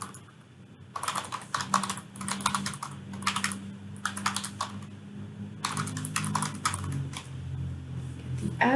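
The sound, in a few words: typing an address on a computer keyboard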